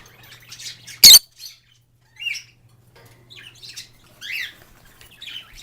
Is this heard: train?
no